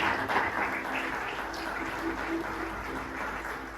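A church congregation applauds with a dense, steady wash of clapping that stays even and moderately distant throughout, with no distinct speech over it.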